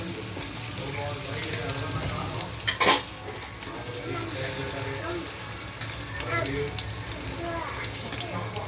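Onions frying in oil for a squid biryani give a soft, steady sizzle with a sharp burst near three seconds, faint stirring throughout, and a voice briefly talking.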